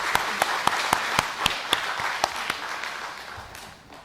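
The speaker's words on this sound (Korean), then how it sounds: "박수를 한번 크게 해주시죠." Church congregation applauding at a Wednesday prayer service, a dense wash of clapping with several sharp individual claps standing out, steady then fading toward the end.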